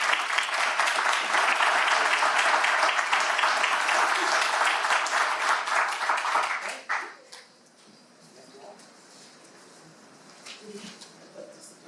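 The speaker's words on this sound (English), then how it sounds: "let's give these nice people a round of applause" Audience applause at a civic proclamation ceremony, dense sustained clapping from a room of people for about seven seconds, then stopping abruptly into quiet room tone with faint scattered noises.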